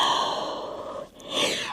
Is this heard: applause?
no